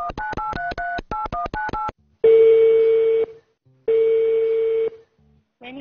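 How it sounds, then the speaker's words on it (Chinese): A telephone dialing a call out to a television show viewer, a rapid series of about a dozen touch-tone beeps followed by two long ringback tones separated by a pause, loud and clear. "电话号码滚动起来，3 2 1停。 138快乐大巴4436，来自于辽宁的观众，我们把电话打过去。"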